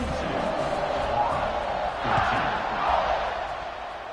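Home crowd at an Alabama football game against Florida, a dense sustained roar of cheering and shouting that swells and fades, with a commentator's voice over it.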